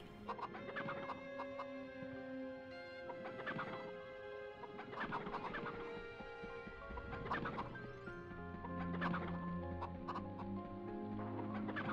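Chickens clucking in the PS1 video game MediEvil, a steady stream of overlapping clucks and short squawks from several birds heard nearby, with no talk over them.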